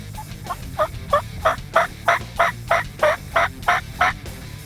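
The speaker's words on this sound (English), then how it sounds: "these turkeys are getting closer and closer" Wild turkeys gobble close by in the South Dakota outdoors, about a dozen loud, evenly spaced bursts in a rapid run over a low background rumble, with no talking.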